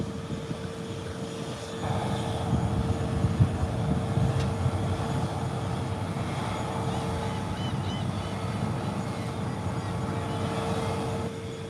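An ATR 43 turboprop airplane at Howard Hamilton International Airport gives a steady, droning engine hum with a constant tonal whine, moderately distant and continuous, no voices.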